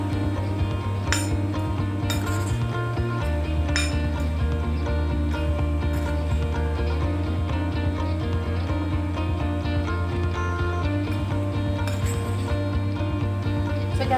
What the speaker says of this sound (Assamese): এইখিনি এতিয়া ভালদৰে মিক্স কৰি ল'ম।